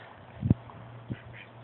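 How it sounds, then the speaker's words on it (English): Ducks in a backyard give two short, fairly close quacks, one louder than the other, against a steady low background hum with no talking. "We got a bunch of ducks over here in the yard."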